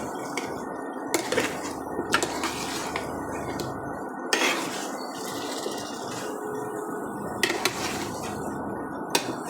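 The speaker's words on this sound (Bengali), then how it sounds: "ঢাকনা সরিয়ে আমি আবার এটা একটু নেড়ে দিচ্ছি।" Meat being stirred in an uncovered pot over a lowered flame, a run of soft scraping and clinking knocks against the pot with a few sharper taps, close and fairly quiet over a steady sizzling hiss.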